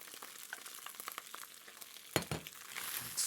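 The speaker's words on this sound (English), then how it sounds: "we're going to fry those up until they're browned" Ground pork, beef and vegetables fry in a pan with a constant crackling sizzle, then a louder burst of scraping and stirring near the end.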